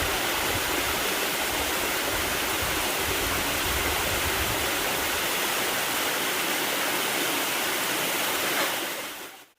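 A steady, full roar of the Deungseon waterfall in Seoraksan, loud and unbroken, close by, dropping away abruptly at the very end.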